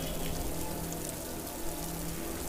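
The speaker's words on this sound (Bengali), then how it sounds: "অঝোরে বৃষ্টি হচ্ছে" Heavy rain effect from a Bengali audio story: a dense, steady downpour hiss at moderate level, continuous and unbroken with no voices.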